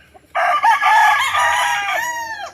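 A rooster on a chicken farm in Antipolo City crows loudly and close, one long drawn-out cock-a-doodle-doo that rises and trails off, heard alone.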